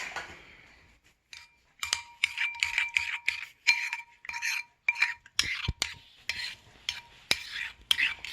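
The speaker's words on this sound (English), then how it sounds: "So let's mix it." A spoon stirs a pizza or bread mixture seasoned with paprika in a kitchen, making a run of close, repeated scraping and clinking strokes in short bursts with no talking.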